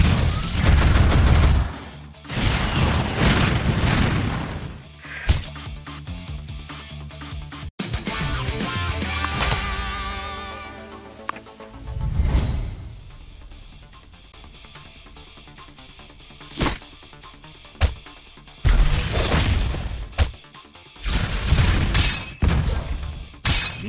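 Missile fire in One Punch Man: Road to Hero 2.0, a loud barrage of crashing explosions, gunfire-like rattles and impacts arriving in repeated bursts with short quieter gaps between them.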